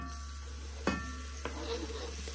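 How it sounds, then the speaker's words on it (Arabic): Chopped garlic and leek frying in olive oil in a pan give a steady low sizzle, broken by a couple of sharp clinks from stirring. "الطاوه ديالي درت فيها شويه ديال الزيت البلديه، غادي ندير فيها شويه ديال الثومه مقطعه ربيع والبورو"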